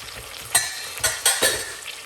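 Onion, squash and garlic caramelizing in a pan, a soft sizzle broken by a few sharp stirring scrapes and clicks, close up with no talk.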